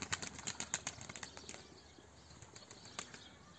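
A flurry of wing flaps bursts up close as pigeons take off together from a coop, the flapping thinning out and fading within a few seconds.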